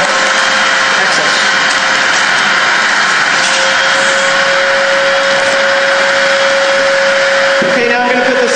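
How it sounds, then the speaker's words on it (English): Vacuum cleaner drawing excess air out of a Mylar storage bag, a loud, steady motor whine and rush of suction running continuously, with a brief shift in tone near the end. "And I'm going to turn on the vacuum cleaner."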